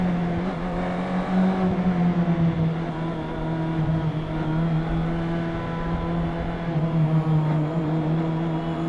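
A naked motorcycle engine hums and revs at a steady pitch, loud and close, with slight rises and dips in throttle and no voices.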